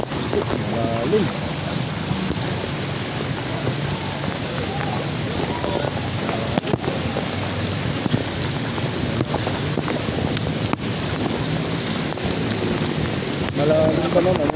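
A strong river current rushes steadily past a spot being checked for a motor crossing, making a constant loud watery roar with wind mixed in and voices faintly audible beneath.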